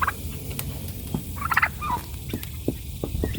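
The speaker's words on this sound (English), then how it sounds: "Let's try this other turkey." A turkey gobbles once in a quick warbling burst midway through, heard fairly close over a steady outdoor background, with no speech.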